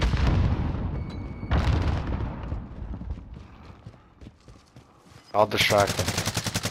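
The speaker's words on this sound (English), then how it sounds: "He's shooting at me." Gunfire in Call of Duty: Modern Warfare, with loud bursts of automatic weapon fire and booms under excited players' talk, ending in a rapid, close machine-gun volley.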